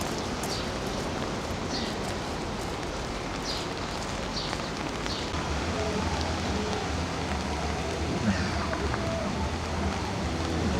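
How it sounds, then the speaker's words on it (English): Steady rain pattering on an umbrella and dripping into small puddles, a continuous close hiss of drops with faint scattered taps, heard on a rainy May day near houses. "the rain falling on my umbrella"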